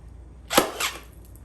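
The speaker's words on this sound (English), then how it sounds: "Should probably do a test staple with the staple gun, make sure it's gonna go through the plastic." A staple gun drives a single test staple through the plastic seat of a 2001 Honda CR80 dirt bike, a sharp close snap followed by a softer rattle, alone in a quiet room.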